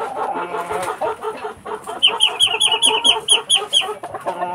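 Rhode Island chickens cluck in a rural backyard, a busy mix of close, repeated clucks and squawks from several birds with a rhythmic run of sharp calls in the second half.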